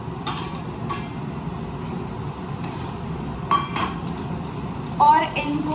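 White sauce with chili flakes and oregano being stirred in a pan, with spoon-on-metal scraping and clinks sounding up close in short bursts, the loudest near the end.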